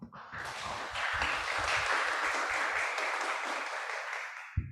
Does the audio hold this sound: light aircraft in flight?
no